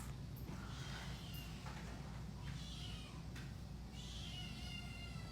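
A kitten meows several times in short, thin calls over a steady, loud background hiss, with no one talking.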